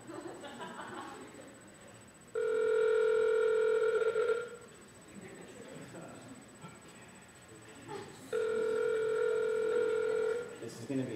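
Telephone ringback tone sounding twice in long steady bursts with a pause between, while a voice talks quietly in the gaps.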